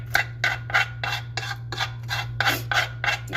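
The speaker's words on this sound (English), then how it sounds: "Just scraping everything off of here." Rhythmic back-and-forth scraping of residue off a surface while making spelt puffed rice cakes sushi style, about eleven short rasping strokes, close and fairly loud, with a steady low hum underneath and no talking.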